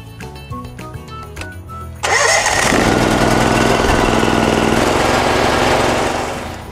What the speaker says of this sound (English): So let's go turn on our pressure washer and get to going.